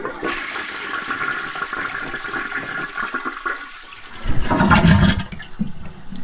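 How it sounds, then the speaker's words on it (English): A household toilet flushes nearby, with a loud rush of water swirling and draining for several seconds, then a surging gurgle as the bowl empties near the end. "first thing first, of course, you have to flush the toilet"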